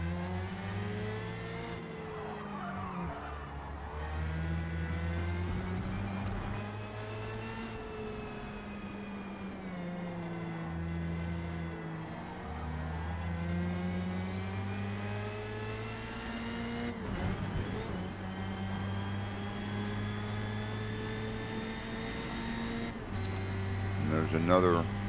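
Formula Mazda race car engine at Indianapolis Motor Speedway in Forza Motorsport, a steady close-up engine drone that rises and falls through gear changes and revving, running continuously with a voice talking over it.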